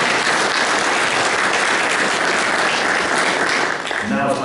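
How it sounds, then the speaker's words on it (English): Sustained, dense round of applause from an audience at a luncheon event at a learning center, loud and steady for several seconds with no talking over it. "Let's give him a little round of applause for our sponsor lunch today as well."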